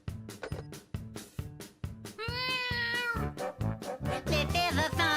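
A pregnant cartoon cat meows in a long, drawn-out, wavering cry over a bouncy rhythmic music backing, with shorter meowing calls following as the music continues.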